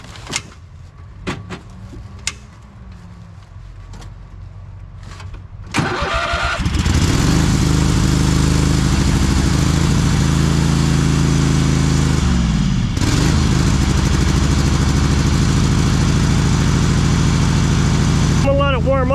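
A small choke-equipped engine, left in gear to warm up, cranks over and catches after a few quiet clicks and knocks, then settles into a loud, steady, close-up idle that runs without a break to the end.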